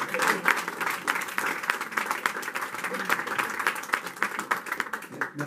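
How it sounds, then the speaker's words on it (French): A comedy showcase audience claps steadily and densely for a full five seconds, a continuous close roar of hands with no let-up. "Continuez à applaudir."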